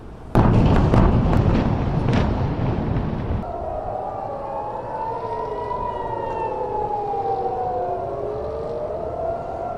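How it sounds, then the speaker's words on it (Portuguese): Air raid sirens wail in Israel during an Iranian missile attack, their rising and falling tones sweeping continuously after a loud opening burst of rumbling blasts and crackling impacts in the first few seconds. "A gente ouviu o momento em que alguns dos mísseis do Irã atingiram Israel."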